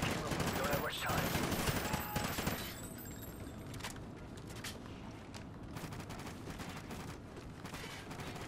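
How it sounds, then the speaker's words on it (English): Gunfire in the shooter Call of Duty Ghosts, a loud opening volley that fades to scattered distant shots and crackling battle noise, fairly faint overall. "More shooting."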